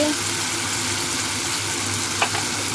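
Tomatoes sautéing in a pan for a spicy prawn thokku, a steady dense sizzle with one brief scrape of a spoon near the end, close and even, with no talking.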